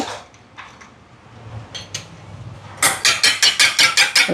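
An egg is cracked and then whisked briskly in a bowl while making Sri Lankan jam bun dough, with a few soft taps at first and then a fast, even run of close, clattering whisk strokes.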